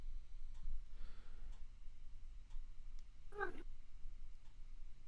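A pet cat lets out a single short meow midway through, faint and indoors, between soft ticks and low room noise.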